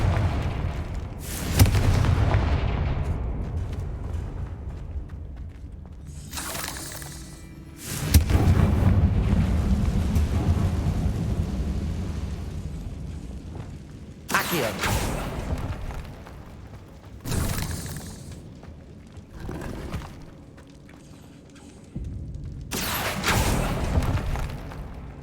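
Repeated fiery blasts from a Confringo spell in Hogwarts Legacy: several loud booming explosions spaced seconds apart, each one bursting sharply and then trailing off into rumbling decay.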